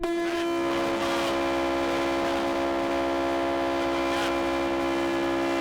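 A long cargo train in the Mauritanian Sahara starts off, its horn blaring in a steady sustained tone over the rumble and clank of rolling wagons, loud and close throughout.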